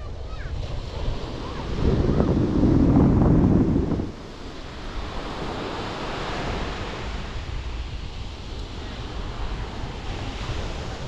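Steady surf rolls onto a beach near Sekinchan, Malaysia, under gusting wind, with a louder wave crash early on before settling into a constant wash of noise.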